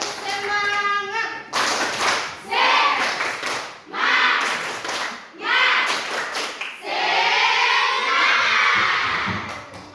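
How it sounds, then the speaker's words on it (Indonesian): Children in a classroom perform a rhythmic spirit clap: several loud bursts of clapping in a set pattern, each set off by short pauses, mixed with shouted chanting voices. "Tepuk semangat."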